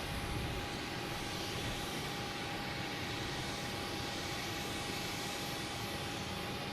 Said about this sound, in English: We got Air Portugal coming in.